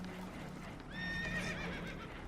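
A spooked horse lets out a shrill, wavering whinny lasting about a second over low rumbling background noise, aboard a damaged boat in Red Dead Redemption 2.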